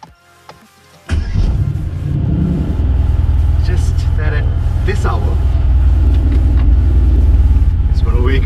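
A brand-new Mercedes-AMG C 63 fires up with a sharp bark, then settles into a deep, loud, steady idle rumble close by, with someone talking over it.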